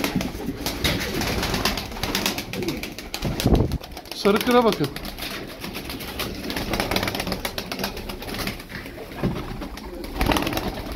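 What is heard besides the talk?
tumbler pigeons cooing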